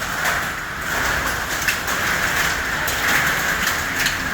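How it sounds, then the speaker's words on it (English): Hail from a storm pelts a garage door in a dense, continuous rattling patter, steady and moderately loud throughout with no voices. "that's the hail hitting the garage door"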